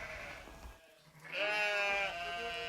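A sheep bleats in two wavering, harmonic-rich calls, the second longer and louder after a short pause, close and clear with no talking.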